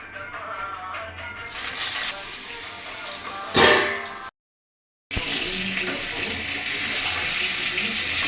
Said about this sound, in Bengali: দিলাম তেলটা গরম হয়ে গেছে, সর্ষের তেলেই করলাম আমি।